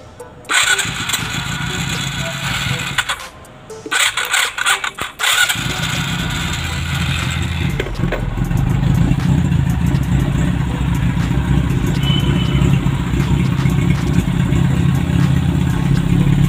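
A motorcycle engine cranks and sputters in a few short bursts, then fires and settles into a continuous, loud, clattery idle heard close up, with no talking.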